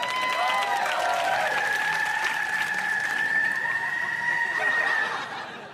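Recorded applause and cheering played as a sound effect inside a car to celebrate it finally starting, a steady dense wash of clapping and crowd noise that holds for about five seconds and then tapers off, with no talking over it.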